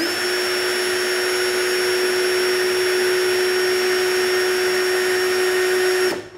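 An Ingco CDLI20021 cordless drill spins at top speed in first gear, giving a steady, close whining motor tone that holds evenly for about six seconds before cutting off.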